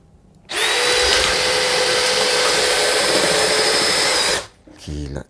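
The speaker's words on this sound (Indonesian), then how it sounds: "Kemudian kita akan bor lagi dengan posisi horizontal, auger bit 25 mili, speed 1, mode drilling." A DeWalt DCD805 cordless drill bores horizontally with a 25 mm auger bit at speed 1 in drilling mode, a loud, steady whining motor run lasting about four seconds, then a short rattling burst as it stops.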